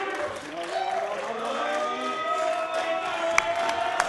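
A wrestling crowd at a championship match cheers and shouts in a dense, sustained roar, with voices rising and a few sharp claps or whoops standing out toward the end.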